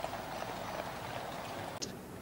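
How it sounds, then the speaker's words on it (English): Horse guards escorting a royal procession down Whitehall toward Westminster, hooves clip-clopping steadily on the street at a moderate distance, with a faint crowd-like hum beneath and a brief thump near the end. "with the escort of horse guards behind"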